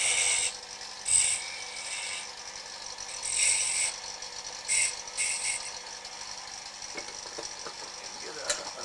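Wooden top being cut off on a woodturning lathe, a high whirring, scraping tool contact in repeated short bursts over the steady lathe drone, ending with a few small clicks, close and moderately loud.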